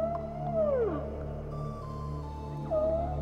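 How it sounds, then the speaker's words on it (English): A whale's song: a long descending moan, a softer held tone, then another rising-falling call over a low rumbling background. "it ain't over till the fat whale sings."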